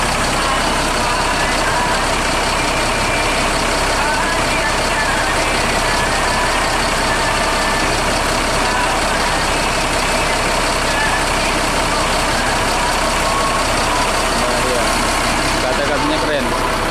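A Mercedes-Benz 1626 engine idles in a Big Top tour bus, a loud steady diesel rumble running throughout with constant hum and faint background noise.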